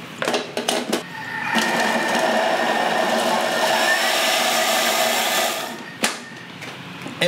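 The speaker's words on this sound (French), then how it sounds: "L'échalote, tu vas la couper en deux, tu vas la mettre dans le Thermomix." A Thermomix kitchen machine chopping a halved shallot, a steady loud whirring blade grind lasting several seconds, framed by short clattering knocks before and after.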